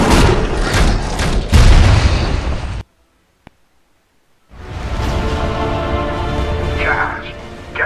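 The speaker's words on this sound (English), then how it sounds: "get to the beacon and determine the source of the explosion" A loud explosion with rumbling debris in the video game Transformers The Game, filling the opening seconds, then a sudden drop to silence before dense game noise and battle sounds return.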